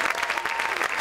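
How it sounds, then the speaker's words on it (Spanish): Theatre audience applauding steadily at a musical theatre show, a dense wash of clapping hands at close range with no pauses, a brief burst lasting about a second. "Les pido un aplauso bien fuerte para ellos."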